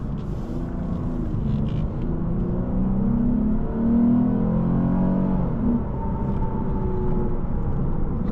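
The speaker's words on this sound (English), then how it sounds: "Typical RC and IS engine sound." A 2022 Lexus RC 350 engine accelerates from inside the car, a loud steady drone that rises in pitch over several seconds and then eases off, with no voices.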